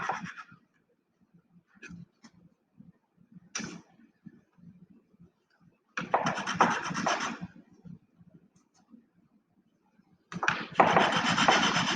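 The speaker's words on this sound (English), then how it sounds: "sanding." Sanding a wooden model part for a corner section model, with short scratchy rubs at first, then two longer bursts of steady back-and-forth abrasion separated by quiet handling noises.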